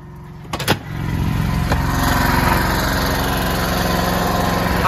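An Energizer inverter generator's small engine starts up after a few brief knocks, then runs steadily and loudly close by with a constant buzzing drone and no talk.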